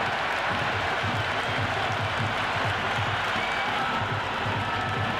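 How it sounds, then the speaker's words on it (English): A stadium crowd roars continuously in the cricket video game Cricket 26 during an India versus South Africa one-day international, a dense, steady wash of cheering and applause with a faint commentary voice underneath. "It's evident and ever so audible that the crowd is at near bursting point at today's play."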